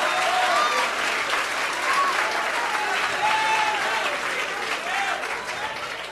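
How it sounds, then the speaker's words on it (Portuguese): A church congregation breaks into sustained applause, a dense and loud wash of clapping that holds steady and tapers slightly at the end, with faint voices calling out over it. "Dê uma salva de palmas para Jesus."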